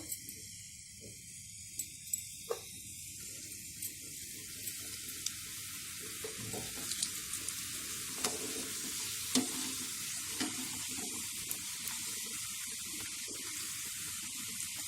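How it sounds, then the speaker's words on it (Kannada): Dry fruit modak frying in a small pan of hot oil over a low flame, a steady soft sizzle and hiss with faint occasional crackles and taps, close but fairly quiet. "ಸಿಮ್ಮಲ್ಲಿದೆ ಸ್ಟವ್, ಸಿಮ್ನಲ್ಲೇ ಫ್ರೈ ಮಾಡ್ಕೊಳ್ಳಿ."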